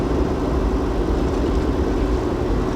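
A truck pulls out to offload near Julia Creek, its heavy engine giving a steady, loud low rumble that continues without a break.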